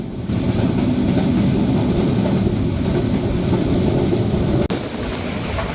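Burimari Express, a metre-gauge train, rolling along its track: a loud, continuous low rumble of wheels and carriages with faint clatter, heard from on board without voices, briefly dipping near the end.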